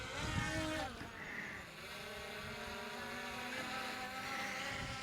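A DJI Mini 5 Pro drone takes off and hovers nearby, its small propellers producing a steady, continuous whine that holds level throughout without speech.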